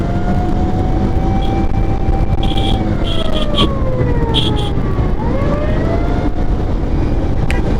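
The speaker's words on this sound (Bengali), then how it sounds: "এই যে ডান সাইড দিয়ে অ্যাম্বুলেন্সটা চলে যাচ্ছে এটাই কিন্তু নিয়ম" A wailing ambulance siren sweeps up and down as it passes through loud, steady, congested road traffic.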